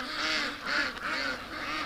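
Ducks in a pen quack repeatedly, several birds calling together in a loud, nasal, overlapping chorus close by.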